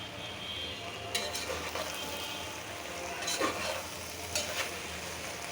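Tomato goes into a pan of frying vegetables, and a continuous close sizzle runs under a few sharp stirring scrapes.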